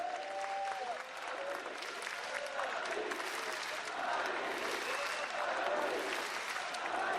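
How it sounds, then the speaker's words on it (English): A large audience at an esports arena during the League of Life of Legends World Championship 2015 semifinal roars and claps steadily, with faint chanting voices woven through a dense, continuous crowd wash heard at a distance. "Great hearing the chants again from the audience"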